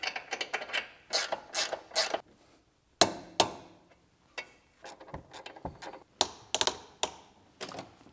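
Close, quiet ratcheting clicks from a torque wrench tightening suspension bolts on a BMW E70 X5 V8 SUV, coming in short bursts of rapid ticks separated by pauses, with sharper single clicks at the end of each pull.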